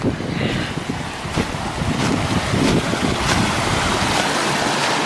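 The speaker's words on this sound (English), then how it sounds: "Meltwater continues to make the hollow brook quite deep and vigorous." A deep, fast meltwater brook rushes vigorously in early spring, a loud, steady broadband roar of churning water close by, with some wind buffeting the microphone.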